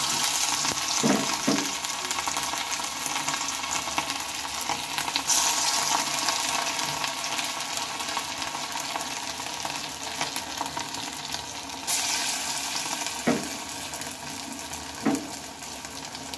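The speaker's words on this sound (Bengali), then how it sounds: "আমি বড়ার শেপে এগুলোকে দিয়ে নেব আর এক একটা বড়া আমি ভেজে নেব" Cabbage-stalk fritters sizzle and bubble continuously in hot oil, with a few short clinks and scrapes as more pieces are added and the batch is handled, and no talking.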